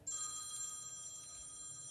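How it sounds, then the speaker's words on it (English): A telephone rings indoors with a steady electronic tone, fairly faint and heard alone for a brief moment. "Is that your phone ringing?"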